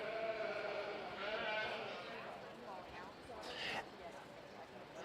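Sheep and lambs bleat at a county fair breeding lamb show, several overlapping calls over steady crowd murmur and an announcer's voice, with a louder bleat near the end.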